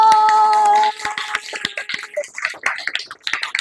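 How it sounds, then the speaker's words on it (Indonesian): A tonal chime fades out, then a group claps hands in a ragged, quick patter that continues unevenly to the end. "tepuk tangan dulu"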